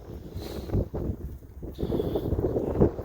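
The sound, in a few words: wind blowing across the microphone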